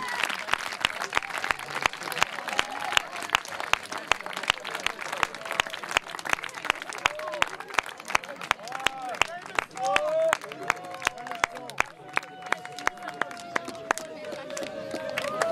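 An audience at a parish football cup in Braine-l'Alleud, Belgium, applauds the two teams with steady, close clapping while voices carry over it.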